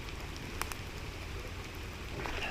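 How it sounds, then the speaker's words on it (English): Heavy rain pours down at a creek, a dense, steady hiss and patter of drops all around, with no talking. "Guys, it's pouring down rain right now."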